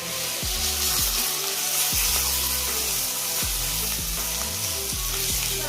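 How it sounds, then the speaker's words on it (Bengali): Food fries in hot oil with a steady, loud sizzle, and a spatula keeps stirring and scraping the pan in repeated strokes throughout. "তার জন্য খুন্তি দিয়ে ভালো করে ভেজে দিচ্ছি।"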